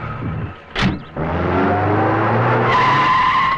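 A car pulls away with tires skidding, starting with a sharp squeal and then a loud, sustained engine roar and tire noise close by; no one speaks.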